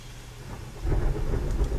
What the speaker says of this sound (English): You guys enjoying the sound of the rain?